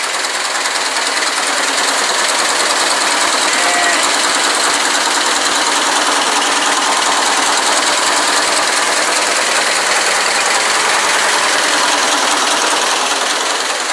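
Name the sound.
car engine starting and idling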